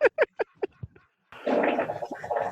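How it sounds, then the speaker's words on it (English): A short run of light taps gives way to a loud, drawn-out, rumbling fart that sputters for about a second, with nothing else heard. "Did someone just fart?"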